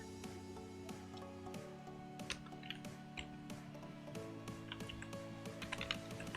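Typing a filename on a computer keyboard, with quick, light key clicks in irregular bursts, close but faint, over a steady low background hum.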